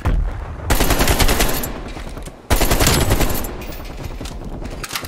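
Sustained bursts of AK-47 automatic fire shot from the hip in Black Ops Cold War, loud and close, two long rattling strings with a brief gap between them.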